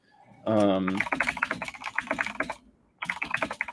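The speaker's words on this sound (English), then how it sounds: "I'm typing. I can't type and talk at the same time" Typing on a computer keyboard, rapid irregular clicks in quick bursts with a short pause near the end, close by, following a brief vocal sound at the start.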